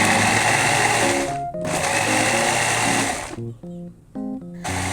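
Cooked mung beans being ground in a blender, a loud steady motor whir with harmonic whine that cuts out briefly, restarts, then stutters in short pulses near the end; no talking.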